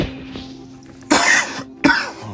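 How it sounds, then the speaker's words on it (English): A person with a dry throat and a cold coughs twice, close and sharp, each cough a short harsh burst, with a faint murmur just before. "Oh man, all this coughing."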